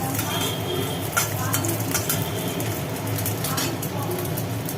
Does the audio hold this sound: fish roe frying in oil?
yes